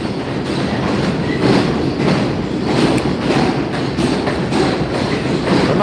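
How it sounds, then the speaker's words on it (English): An overhead subway train roars past in a city street setting, a continuous loud rumble with rattling wheel clatter and slight surges, heard close with no talking. "Sorry about the subway over my fucking head."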